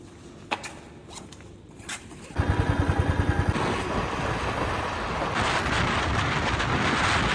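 A motorcycle setting off at night on a village trip: a few quiet clicks and handling sounds, then the engine catches with a quick burst of rapid pulses and settles into a steady, loud idle-to-pull-away drone.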